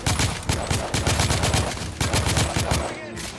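Loud, rapid automatic gunfire from the shooter game The Order: 1886 pounds out in dense, continuous bursts with brief pauses, close and dominant, with a voice faintly beneath it.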